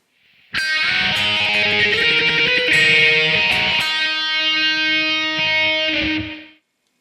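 Overdriven electric guitar plays the next section of the riff, sustained distorted chords with several crisp picked attacks, loud and unaccompanied, cutting off after about six seconds.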